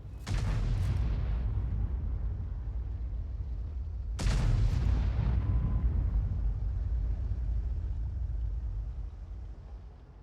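Two heavy artillery blasts from a Conqueror gun carriage in a tank video game, each a sharp loud boom with a long rumbling tail, about four seconds apart, with no talk.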